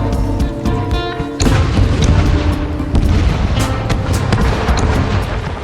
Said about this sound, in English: the harbor ships' cannons shoot at the battleships that are out there